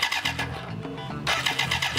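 The starter of a 1986 BMW K100 motorcycle engine, powered directly at the starter terminal, whirs and engages, a loud mechanical cranking with rhythmic pulses that surges louder partway through.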